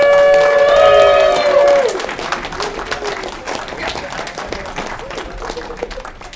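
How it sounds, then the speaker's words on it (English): A live audience gives a round of applause for the competing performers at a bacon-themed finals event, breaking in after a loud tonal passage and continuing as a scattered, moderately loud clapping. "Let's give a round of applause for everybody coming back here."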